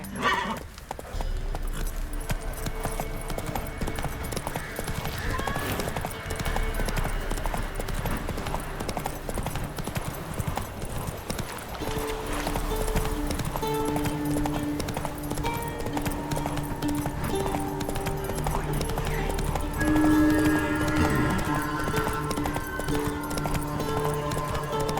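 Horse hooves clip-clop in a steady galloping rhythm in The Witcher 3 (Heart of Stone DLC), with occasional whinnies over a busy game soundtrack of music and ambience.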